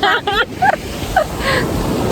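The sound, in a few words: strong ocean waves at Camara Island beach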